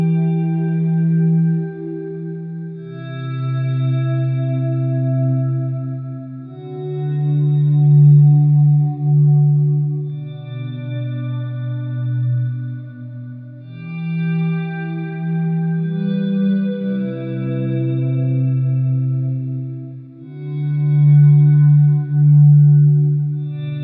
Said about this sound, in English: when you combine that with your delay, or delays, and your compression, and you do your volume swell